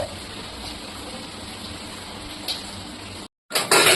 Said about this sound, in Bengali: বৃষ্টি হচ্ছে বাইরে, একটু দেখাতে চাই